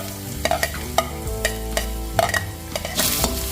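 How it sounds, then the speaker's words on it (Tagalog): Garlic and ginger sauté in hot oil in a pan for a fish stew, a loud steady sizzle broken by repeated scraping stirs of a utensil, with no talking. "igisa na po natin yung ating bawang saka luya"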